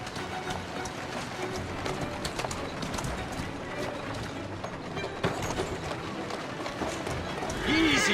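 Horse hooves clip-clop steadily through a dense street soundscape in Assassin's Creed Syndicate, a continuous run of hoofbeats mixed with crowd noise and birds, with speech present throughout.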